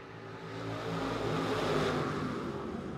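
A pack of dirt late model race cars roars back to full throttle on a restart at Modoc Raceway, a rising, dense engine roar swelling from moderate to loud, with no talk.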